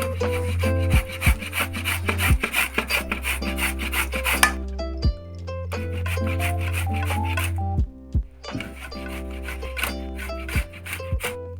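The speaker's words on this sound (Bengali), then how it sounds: "আলুটা গ্রেট করে নিচ্ছি" A raw potato rubbed against a grater, with repeated rasping strokes in uneven bursts and brief pauses, close by and under a steady tonal background.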